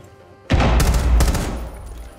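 Gunfire in the video game Rainbow Six Siege erupts as a sudden, loud, rapid burst of shots that keeps going for well over a second, sounding close and alone, with no talking.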